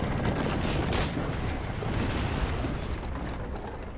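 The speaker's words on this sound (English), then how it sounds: "I feel like the explosion should have been somewhat larger than that." Shot barrels explode in the Assassin's Creed Liberation video game, a dense rumbling blast that stays loud and rough for a few seconds before slowly easing, with no voices.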